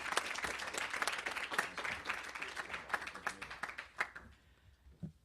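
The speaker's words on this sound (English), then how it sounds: "Won't you please give him a warm round of applause?" Audience applause at a journalism panel event, dense steady clapping from a room of people that thins into a few last scattered claps before fading.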